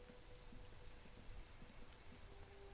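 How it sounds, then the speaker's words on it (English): Steady rain in the video game Disco Elysium: a soft, even hiss of falling rain with faint scattered drops, quiet and continuous throughout, with no talk. "It's raining again."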